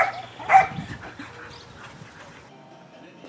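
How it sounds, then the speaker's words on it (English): Neighbourhood dogs outdoors give a faint bark and some panting and whimpering, distant and fairly quiet, with brief murmurs of talking. "Neighbor dogs are out."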